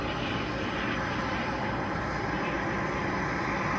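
An FPV model airplane's engine runs steadily, giving a loud, continuous broadband roar that holds at a constant level throughout with no pauses.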